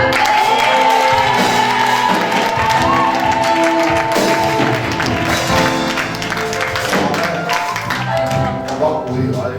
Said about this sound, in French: J'aimerais que tu donnes un amen fort avec l'acclamation